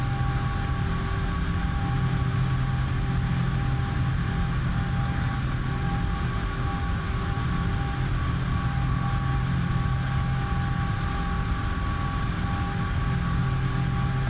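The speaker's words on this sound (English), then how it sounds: "Absolutely beautiful engine sound." PMDG 747-8F jet engines in a flight simulator drone steadily through a climb, a constant dense roar with sustained whining tones layered over it, unbroken for the whole stretch.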